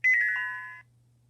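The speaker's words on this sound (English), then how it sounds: "turn the page when you hear the chime" A single bright chime rings out once in a read-along storybook of Jack and the Beanstalk, clear and close, then fades over most of a second over a low steady hum with no talk.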